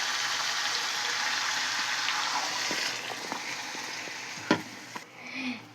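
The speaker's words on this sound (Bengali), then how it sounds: "এই যে আমার গোশটা একটু ভাজা ভাজা মতো করে নিয়েছি, নিয়ে এবার আমি পানিটা ঝেড়ে দিব।" Water splashed into a pan of browned meat sets off a loud, hissing sizzle that gradually subsides, followed by a few stirring knocks and scrapes.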